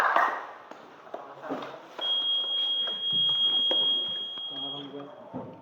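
A vibration-triggered alarm built as a student project beeps a steady high tone for about three seconds, heard close by over a background of voices.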